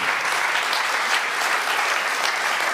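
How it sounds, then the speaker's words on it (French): Dense, loud audience applause at a Montréal public event honouring a guest, a continuous wash of many hands clapping throughout with no break. "je crois qu'il mérite une main d'applaudissement"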